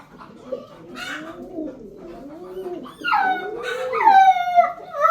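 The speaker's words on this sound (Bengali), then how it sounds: "এই যে পায়রাগুলো আছে" Pigeons at a nest site where birds sit on eggs give soft, low cooing calls, followed by brighter, louder calls in the second half of the clip, with no talking.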